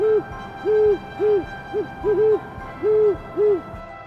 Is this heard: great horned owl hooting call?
yes